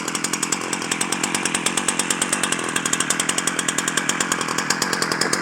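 A Ryobi 14-inch chainsaw with a newly replaced chain runs steadily nearby, its loud buzzing motor carrying a fast, even pulsing rhythm throughout.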